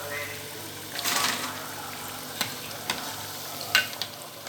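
Potatoes frying in hot oil for viazi karai, a steady sizzle with stirring scrapes and a few sharp clinks of a utensil against the pan, while a voice talks quietly underneath.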